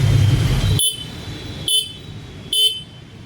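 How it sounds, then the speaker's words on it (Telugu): Three short beeps from the single horn of a 2026 Suzuki Gixxer SF 150 motorbike, evenly spaced and sharp, following a brief stretch of low background rumble. "ఇంకా ఇక్కడ సింగిల్ హార్న్ ప్లేస్మెంట్ అయితే ఉంది"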